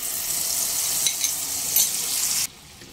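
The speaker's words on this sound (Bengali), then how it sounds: "দুটো কুচিয়ে নেওয়া কাঁচা লঙ্কা দিয়ে দেব। আর 10 থেকে 15 সেকেন্ড পরেই যে আগেই মশলাটা গুলে রেডি করে রেখেছিলাম সব দিয়ে দেব।" Chopped green chillies and a pre-mixed spice paste sizzle loudly in hot oil in a pan, a dense close hiss with a few stirring scrapes, until the frying cuts off sharply near the end.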